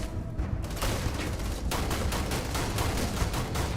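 Sustained rapid gunfire in the Starfield video game as an office worker is shot repeatedly, a dense, loud barrage of overlapping shots with no pause.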